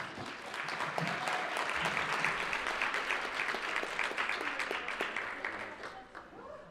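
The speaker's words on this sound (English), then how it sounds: "a big round of applause" A large afternoon audience breaks into a full, steady round of applause, dense clapping sustained for several seconds before gradually tapering off near the end.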